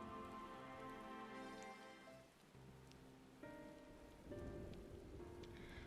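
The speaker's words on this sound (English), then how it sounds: "And it's raining." Steady rain falls in a Final Fantasy XIV cutscene, a soft continuous patter on surfaces that runs underneath layered game music throughout.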